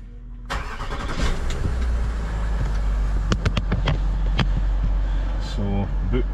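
A Range Rover with a failed MAP sensor cranks and starts, then settles into a loud steady idle close by, with clicks and knocks over the running engine and some talk.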